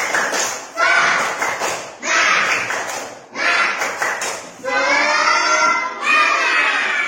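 An audience of children performs a rhythmic spirit clap routine, bursts of group clapping in patterned groups alternating with chanted voices, loud and close with brief pauses between rounds.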